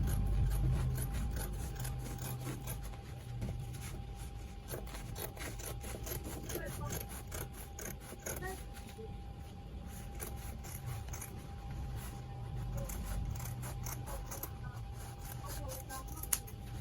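Scissors trim excess fabric from a padded pleated turban, making a steady close rasping and snipping over a low background hum.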